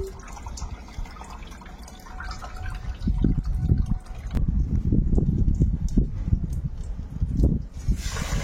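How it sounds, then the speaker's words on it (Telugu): Water poured over millet dosa ingredients to soak them, a close, steady liquid gush and splashing that starts a few seconds in and runs on, with no talk. "కొంచెం వాటర్ వేసి నానబెట్టేస్తున్నామండి."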